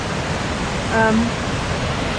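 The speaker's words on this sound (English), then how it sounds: "and of course the waterfall" Ebor Falls waterfall heard from a park walking path: a steady broad rush of falling water runs throughout, with a brief tonal sound mid-way over it.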